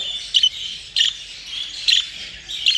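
Show jumbo budgerigars chirp in four bright, short bursts spaced about half a second to a second apart, close and fairly loud over a quiet background, with no voices.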